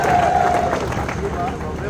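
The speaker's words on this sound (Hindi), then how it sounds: "ठोको ताली।" Crowd at a political rally breaking into sustained applause and clapping, a dense wash of claps and cheering mixed with crowd babble and some voices throughout.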